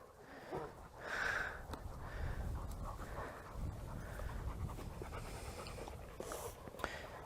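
A Kangal dog panting steadily at close range with occasional sniffs, quick rhythmic breaths over outdoor background noise.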